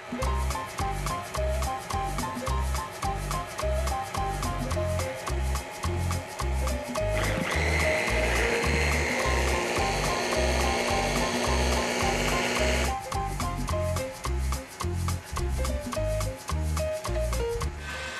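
Almonds and icing sugar whirl in a food processor, a loud steady grinding drone with a brighter, denser burst in the middle before settling back to the rhythmic churn.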